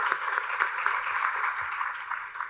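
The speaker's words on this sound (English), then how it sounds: "So clap for yourself." Seated audience at a financial inclusion report launch clapping for themselves, a steady, moderately faint patter of many hands lasting throughout with no voices over it.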